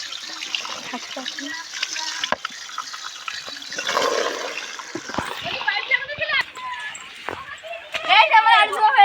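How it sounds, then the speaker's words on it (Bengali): Potatoes are swished and rinsed by hand in a container of water outdoors at a winter picnic, with close splashing and trickling under ongoing conversation, growing busier and louder toward the end. "গাইস দেখো আমরা আলু ধুচ্ছি"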